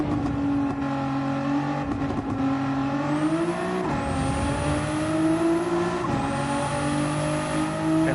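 A sim racing car engine held at full throttle in a racing game, roaring loud and steady with a rising pitch through each gear.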